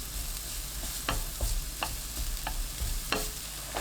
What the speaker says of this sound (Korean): 달구지 않은 팬에 식용유 1큰술, 다진 마늘 1큰술, 파 넣고 센 불로 볶습니다.